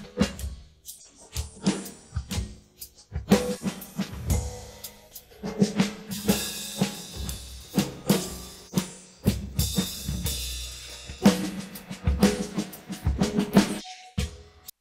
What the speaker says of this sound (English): Next, let's take a listen to the drums.